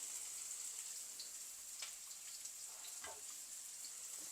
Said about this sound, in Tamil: இப்போ இது ஃப்ரை ஆகிடுது